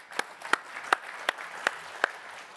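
Applause at a prop firm expo in London comes across as sparse, distinct hand claps, about six sharp strikes spaced at a slow, fairly even rhythm over a low room murmur.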